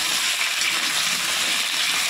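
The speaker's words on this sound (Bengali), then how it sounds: "আলুটা ভেজে নিচ্ছে আর কি" Potato pieces fry in hot oil with a steady, close hiss and fine crackle that holds evenly throughout, with no voices.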